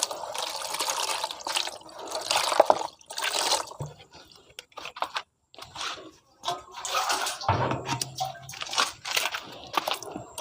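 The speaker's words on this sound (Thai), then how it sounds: "ตักน้ำเอามาเทใส่ในกระมังนะคะ" Water scooped and poured into a basin while separating freshly hatched snail young from their eggs, heard as irregular splashes and trickles with small clinks, fairly close, with brief pauses between pours.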